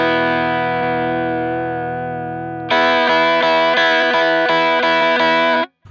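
An electric guitar played through a Jan Ray overdrive pedal sustains a thick, distorted chord, then strums a rhythmic chordal pattern before cutting off.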